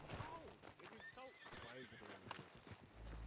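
Horses neigh and whinny loudly in a Red Dead roleplay video game, with clip-clopping hooves and voices talking over them throughout.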